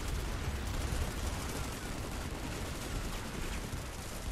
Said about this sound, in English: the burst weapons have got to go